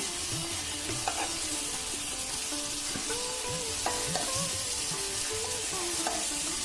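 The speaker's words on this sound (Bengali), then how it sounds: "এবারে দিয়ে দিচ্ছি ভেজে রাখা মাছের মাথাটা মাথাটা দিয়ে এটাকে একটু ভেঙে দেব" A fried fish head sizzles in masala with mung dal, with a continuous close frying hiss and repeated scraping and pressing of a spatula against the pan, steady throughout without talk.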